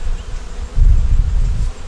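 A dense, low buzzing of many honey bees close by, swelling louder partway through and holding steady with no voices.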